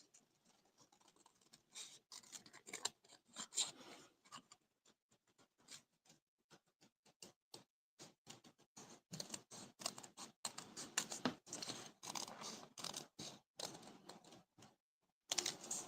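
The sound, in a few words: scissors fussy cutting paper ornament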